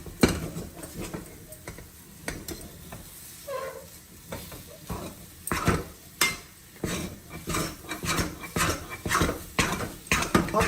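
A spatula scrapes sticky moong dal halwa off the bottom of a pan in repeated rhythmic strokes, with soft scraping and clinks up close.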